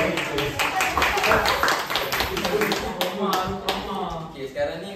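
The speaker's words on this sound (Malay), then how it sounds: "Kita dulu tepuk tangan untuk Zaid." A classroom of young pupils applauds for a classmate named Zaid in an Islamic studies lesson, dense clapping with scattered taps running throughout, mixed with children's voices and chatter.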